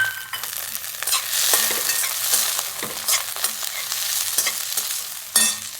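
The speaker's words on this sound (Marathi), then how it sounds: "शिमला मिरच, फ्लावर, हा वाटाणा सगळं परतून घेते." Capsicum, cauliflower and peas sauté in a pan for a vegetable pulao, a steady close sizzle broken by repeated scraping stirs of a spatula, with no voices.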